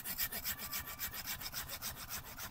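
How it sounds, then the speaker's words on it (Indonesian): A sharp folding hand saw cuts through a tree branch in steady, rhythmic strokes, about a dozen close rasping pulls and pushes in a quick even cadence with no talking. "Ini lagi memotong ranting dahan ini ya"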